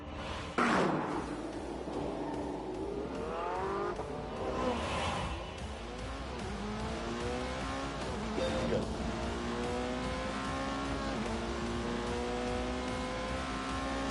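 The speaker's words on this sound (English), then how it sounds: "Soon, the McLaren and the Porsche were ready for some shakedown laps." Sports car engines from a McLaren and a Porsche in a driving video game rev and shift through rising gear sweeps, with a sharp opening thump and steady acceleration whines layered over one another.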